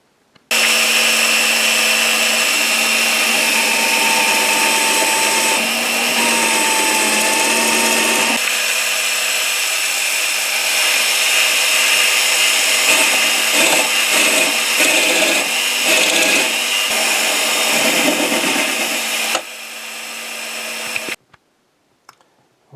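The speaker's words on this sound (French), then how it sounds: "on va faire les trous en diamètre 8 avec un perçage sur le dessus à la mèche à bois en diamètre 20" Power drill boring 8 mm and 20 mm holes into wood with a wood bit, a loud continuous whine held for about twenty seconds, its load shifting partway through before it winds down and stops.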